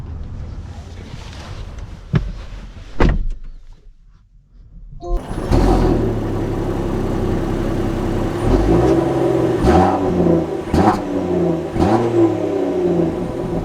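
A 2024 Land Rover Defender 130 starts off after a few clunks and a brief hush, then its engine drones and revs up through several gear changes, heard close from inside the cabin.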